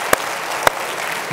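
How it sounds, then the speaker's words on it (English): Applause from a church audience, a dense patter of clapping with a couple of sharper single claps standing out, steady for about a second and a half. "let's just give him a round of applause and thank him for that"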